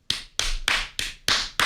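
Six sharp, loud hand claps ring out in an even, quick rhythm, each a crisp close slap, made to set off a phone-finding app.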